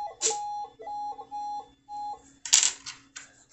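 A Minelab CTX3030 metal detector heard through DDT underwater headphones gives short steady beep tones for a golden ring: several clipped pulses followed by a burst of scraping noise, close and clear with no speech.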